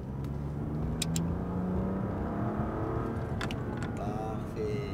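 A BMW M2 Competition accelerating on a race circuit, its engine droning steadily with a rising pitch under a constant wind and road roar, with faint background speech.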